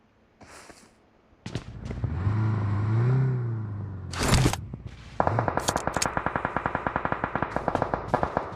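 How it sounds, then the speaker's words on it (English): Automatic weapon fire from an esports battle royale match, heard first as scattered shots and then as a steady rapid burst toward the end. Engine rumble and other game sounds come in between. "Bullets flying all over the map here. You can hear the action."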